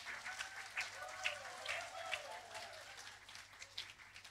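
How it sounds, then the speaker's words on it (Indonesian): Faint, distant applause from a congregation rises in a church Christmas service, a quiet, even patter of many hands with some vocal tones mixed in. "Kita berikan tepuk tangan buat rarongsok tadi."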